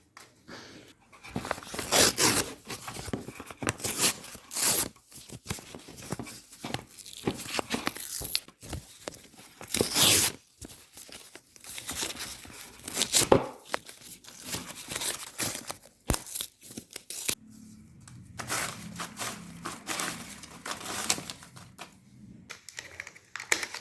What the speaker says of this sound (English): I'm just crumbling down the big chunks of the paper